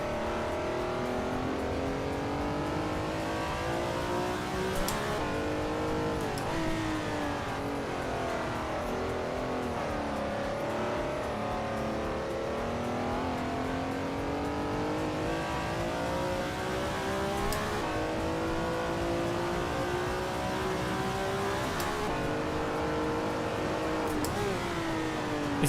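Race car engines in a video game race drone and rev continuously, pitch rising and falling with gear changes and occasional sharp clicks, steady and close for the whole stretch.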